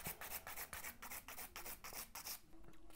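A gel nail being shaped with a nail file, steady back-and-forth rasping strokes in a quick even rhythm, close and fairly quiet, with no talking.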